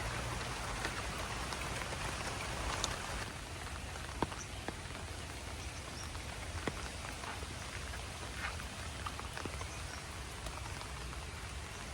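Steady rain patters on foliage and surfaces in a tropical botanic garden in Singapore, a continuous dense hiss with occasional louder individual drops, close and fairly loud, with no talk.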